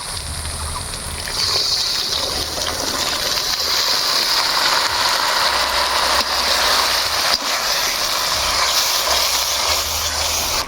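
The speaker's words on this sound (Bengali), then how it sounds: "এবার ভালো করে মশলা খান কষে নিব" Chicken curry spice paste of ground cumin, dried red chilli paste, turmeric and Kashmiri chilli powder fries in a pan with a continuous close hiss and sizzle, steady throughout with no speech.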